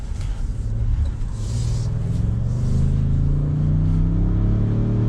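A 2022 Ford F-150 pickup truck accelerating, its engine note rising steadily in pitch as it gathers speed, loud and close with a deep rumbling exhaust and no talking.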